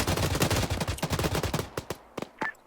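Rapid automatic gunfire in the military video game Arma 3, dense bursts for nearly two seconds, then a few isolated shots, with no talk.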